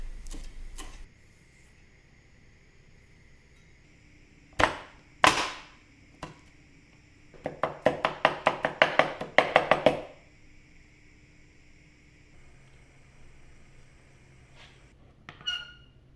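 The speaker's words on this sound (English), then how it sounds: "I have 4 handfuls of spinach leaves that I chop roughly" Knife chopping spinach and fenugreek leaves on a board, a few isolated cuts followed by a rapid run of about a dozen chops, then quiet with a last couple of taps.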